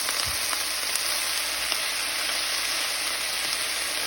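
Cabbage sautés in an oiled pan with salt and pepper, a steady, even sizzle at moderate level with a soft knock of stirring near the start.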